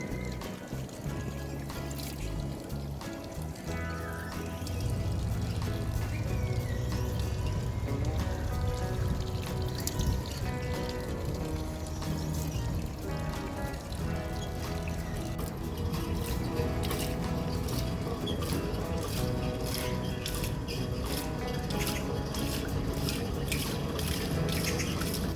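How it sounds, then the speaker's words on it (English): Water splashes and pours in busy bursts at a park in Seoul Forest, close and fairly soft, with light irregular drips and sloshing throughout. "Splashing everywhere."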